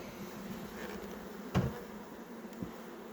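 Honeybees humming around an open beehive as frames are handled, a steady low buzz running throughout with a couple of brief soft knocks, no talking.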